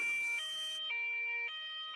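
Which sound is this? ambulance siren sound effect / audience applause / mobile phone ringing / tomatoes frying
ambulance siren sound effect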